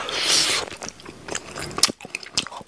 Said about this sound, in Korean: 짜장 떡볶이가 엄청 맛있어요.